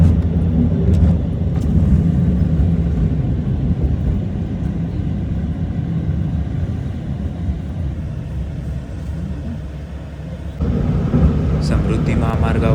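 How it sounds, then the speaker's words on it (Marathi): Steady road traffic rumble of cars moving through the Samruddhi highway entrance toll plaza, a continuous loud engine and tyre drone with a brief dip before picking up again near the end. "तर हा आहे समृद्धी महामार्गाच्या एंट्रन्सवरचा टोल नाका."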